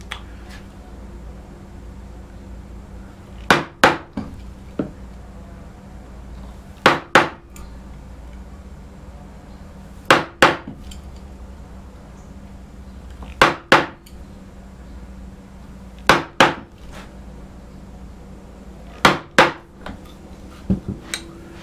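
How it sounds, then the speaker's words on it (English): Mallet strikes on a chisel carving a wooden drawer front, landing in sharp paired or tripled taps every few seconds, close and clear over a quiet room with no talk. "And oh, I forgot some of my chisel work, so I'll finish that chisel work."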